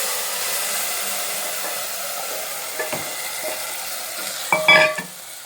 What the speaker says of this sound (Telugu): అల్లం వెల్లుల్లి పచ్చివాసన పోయేంత వరకు ఫ్రై చేయాలి